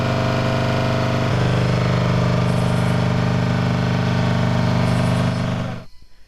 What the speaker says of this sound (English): The sound of generators revs from a distance, distorting the night chirps by crickets.